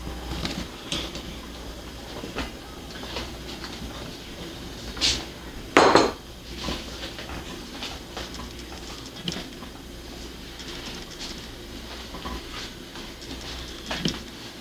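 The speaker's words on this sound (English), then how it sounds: "So I add the mushrooms." Mushrooms go into a pot of boiling Tom Kha chicken soup with faint clinks of utensils and pot, a louder clatter near the middle, and a soft bubbling background between the knocks.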